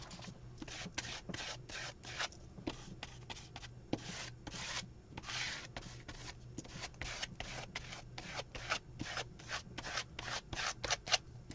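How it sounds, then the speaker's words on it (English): Paint scraped across a palette during mixed media painting, a long run of quick, rhythmic rasping strokes, close and fairly quiet with no voices. "I think I'm done scraping paint"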